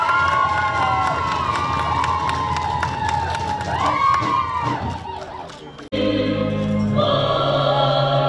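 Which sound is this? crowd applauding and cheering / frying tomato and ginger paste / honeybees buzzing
crowd applauding and cheering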